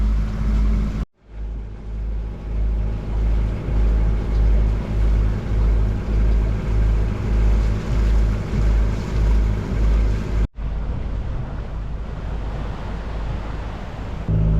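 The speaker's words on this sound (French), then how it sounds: "Alors on avance au moteur." A sailboat motoring under engine drones steadily with a low rumble and a rhythmic pulsing swell, briefly cut out twice, with wind and water noise around it.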